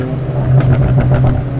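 Hyundai Veloster N exhaust crackling under light acceleration, a quick run of sharp pops over a loud steady engine drone, heard close from inside the car.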